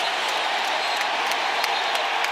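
Football stadium crowd roaring after a Texas Tech Red Raiders touchdown, a dense, steady wash of cheering and applause with no breaks across the moment.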